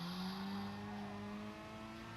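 A race car's engine in a sim racing game at the Red Bull Ring sustains a high, strained whine, its pitch holding steady then dropping slightly as the revs ease, fairly faint and continuous, with no voices.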